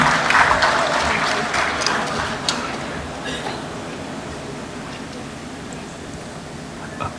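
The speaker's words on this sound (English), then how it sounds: "A round of applause for our next panel, ladies and gentlemen." Conference audience applauding a panel, the clapping loudest at the start and thinning out as it fades into a quieter room tone with scattered claps.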